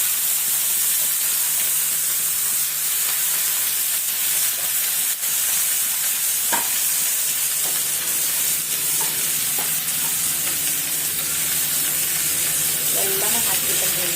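Food frying in hot oil in a home kitchen, a steady close sizzle and hiss throughout with faint stirring clinks.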